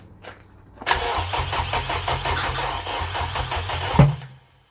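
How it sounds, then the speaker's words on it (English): A K-swapped Honda Civic EJ9 cranks and fires into a loud, rough run with irregular popping pulses and a sharp backfire bang near the end before it cuts off. "It's backfiring out the back end now."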